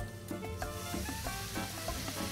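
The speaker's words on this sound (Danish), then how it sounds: "og så kommer vi vores hvidvin på." White wine poured into a hot pan with saffron and oil sizzles and crackles steadily at close range, with small stirring clinks and pops throughout and no talking.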